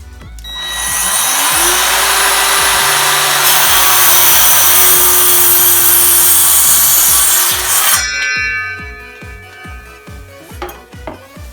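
A circular saw running along a guide rail rips through a wooden board, a loud sustained whine for about seven seconds that then cuts off, leaving the motor winding down amid light knocks and rattles.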